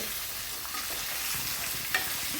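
Peanuts and chickpeas sauté in hot oil for a pickle, giving a continuous close, crackling sizzle with a single brief stirring clink near the end and no talking.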